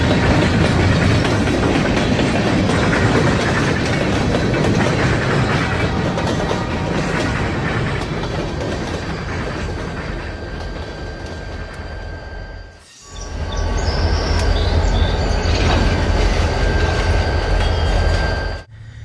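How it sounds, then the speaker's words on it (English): Freight train led by GP40-2 diesel locomotive number 406 rolling past, a loud continuous rumble of wheels and cars with rhythmic clickety-clack and faint squeals, dipping briefly before the roar resumes. "Today's train is led by GP40-2, number 406, the Operation Lifesaver Unit."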